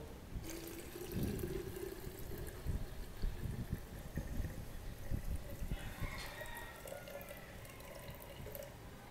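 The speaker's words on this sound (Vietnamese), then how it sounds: "sau khi nước đã nguội thì các bạn sẽ cho nước này vào bình phun." Cooled boiled water poured into a plastic spray bottle, a steady watery trickle and splash running throughout at moderate, close level, with occasional drips and faint background noise.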